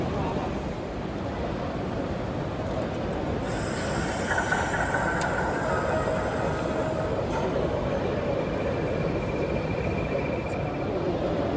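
Model trains run on a narrow-gauge quarry layout at a railway modelling exhibition. A steady rolling rumble of wheels on track is joined by high metallic squeals midway, with a faint murmur of the hall behind.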